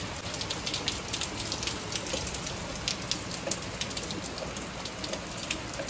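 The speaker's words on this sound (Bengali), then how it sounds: "এখন নেমেছে বিশাল জোর বৃষ্টি" Heavy rain falls steadily outside a house, a dense even hiss of drops drumming on surfaces with no voices, moderately loud and unbroken.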